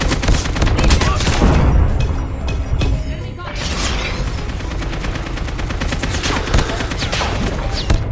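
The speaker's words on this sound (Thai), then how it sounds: "โอ้ยิงยิงยิงไม่โดน" Dense bursts of gunfire from Call of Duty Mobile, loud and close, with rattling automatic shots and mechanical clicks over a busy battle ambience and a player talking over it.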